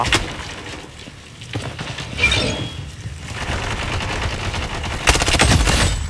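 Gunfire in the Blood Strike shooter game, rapid bursts of close, sharp shots mixed with glassy cracking impacts, growing denser and louder toward the end.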